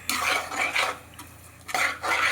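Shahi paneer masala sautéed in a pan for a matar paneer gravy: a spoon scrapes and clinks against the metal pan in uneven strokes, with a faint sizzle underneath and no voices.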